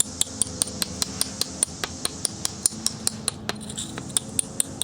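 Sharp, evenly spaced hammer taps on a stone spall resting on an anvil, trimming off its edges; a steady rhythm of close, ringing strikes, about four per second, with a faint background hum of distant yard work.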